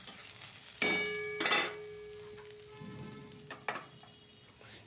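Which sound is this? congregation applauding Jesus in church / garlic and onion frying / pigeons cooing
garlic and onion frying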